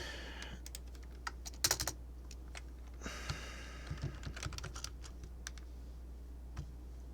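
Keys on a computer keyboard clatter faintly in uneven bursts of typing, with scattered sharper clicks and short pauses in a quiet room.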